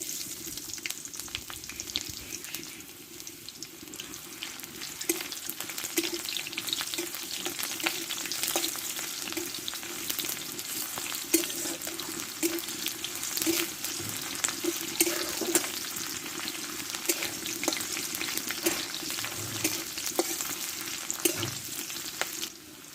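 Onion, chili and panch phoron fry in a pan, giving a steady, close crackling sizzle with occasional stirring scrapes, with no talking.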